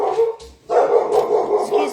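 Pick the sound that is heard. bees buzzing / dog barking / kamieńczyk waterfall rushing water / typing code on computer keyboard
dog barking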